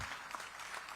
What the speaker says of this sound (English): A thunderous round of applause, ladies and gentlemen.